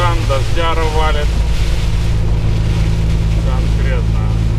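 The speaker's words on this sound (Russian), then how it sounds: "Вот так что ветрукан, дождяра валит" Strong wind and heavy rain beat against a truck cab on a Texas-bound haul carrying a 30-ton pipelayer, a loud constant roar under a low engine drone, with someone speaking briefly at the start.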